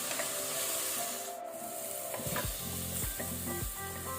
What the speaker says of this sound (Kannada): ಈಗ ನಾವು ಈರುಳ್ಳಿಯನ್ನು ಫ್ರೈ ಮಾಡ್ಕೊಳ್ಳುವ ಮೀಡಿಯಂ ಫ್ಲೇಮಲ್ಲಿ.